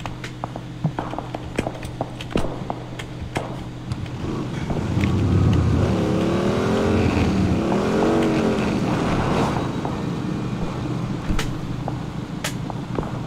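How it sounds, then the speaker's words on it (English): A motorbike engine in the shooter game PUBG drones steadily as the bike is ridden, rising and falling in pitch as it revs mid-clip, over scattered clicks and light game sounds, with no talking. "I'm just gonna ride around my bike."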